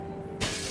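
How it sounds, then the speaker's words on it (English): Window glass shatters in an audio drama scene aboard an aircraft, a sudden bright crash that follows a quiet hum, then a sustained hiss of scattering shards. "The window beside the man shattered inward."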